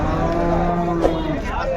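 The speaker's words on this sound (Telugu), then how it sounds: "ఇక్కడ కూడా మనకు జెర్సీ ఆవు అయితే ఉంది" Jersey cow at the Palamaner cattle market gives a single loud, sustained low moo lasting nearly two seconds, close to the listener, with no talk over it.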